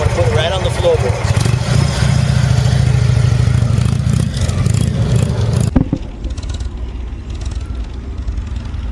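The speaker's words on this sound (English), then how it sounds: "let's see how narrow a turn I can make with this bike" An Indian Chieftain motorcycle's engine rumbles low and steady at close range as the bike is swung through a tight, narrow turn, then drops to a quieter idle-like hum near the end.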